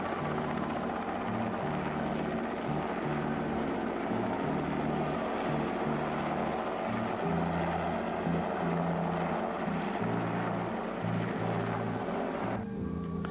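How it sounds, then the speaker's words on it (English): An air rescue helicopter thrums loudly and continuously, its rotor beating in a steady pulsing drone close by on the Norfolk coast. "Quite a common sight, the air rescue helicopter."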